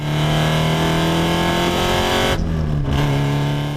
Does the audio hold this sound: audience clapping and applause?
no